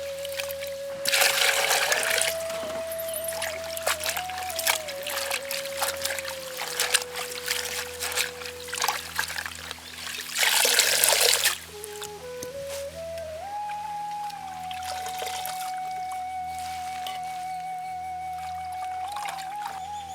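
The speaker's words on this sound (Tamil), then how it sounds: "பறித்து எடுத்த புளிச்சக்கீரையில் மண் இல்லாமல் சுத்தமாக அலசி எடுத்துக்கலாம்." Gongura leaves are rinsed in water, with splashing and trickling swishes that come in bursts over a steady low background hum, and a tonal whine rises and falls throughout.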